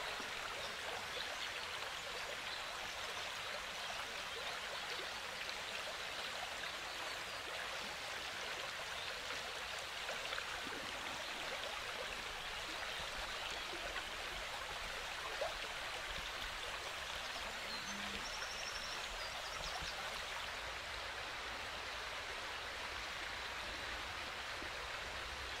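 Flowing stream where dippers feed: a steady, even rush of water throughout, with no pauses or other sounds standing out.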